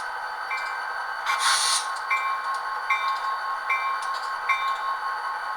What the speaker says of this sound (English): 9023's bell sounds like this.